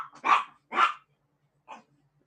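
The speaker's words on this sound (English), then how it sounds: "You're barking at a lady with a baby stroller?" A dog barks at a passerby pushing a baby stroller, giving three sharp, loud barks close by. The first two come quickly together and a softer third follows after a pause, with quiet in between.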